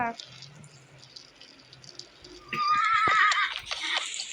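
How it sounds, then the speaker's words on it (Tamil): Horse in the Roblox game 99 Nights in the Forest: quiet background tones give way to a loud, near whinny and clip-clop hooves in the second half, with nobody speaking. "குதிரை ஓடுற சவுண்டு."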